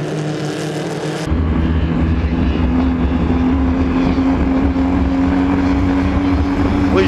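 2.5-litre hydroplane racing boats in a race at Valleyfield roar past close by, a loud, continuous engine drone that swells abruptly after the first second and holds steady.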